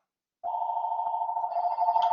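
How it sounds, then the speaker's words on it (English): A telephone rings during a recorded math lecture: a steady, sustained electronic tone starts abruptly after a moment of silence and keeps sounding alone without a break. "just ignore that ringing"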